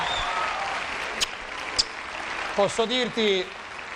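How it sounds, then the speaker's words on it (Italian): Steady applause from a studio audience for a singer on an Italian TV show, a dense patter of clapping carried evenly through, with a few voices speaking over it near the end. "Grande applauso"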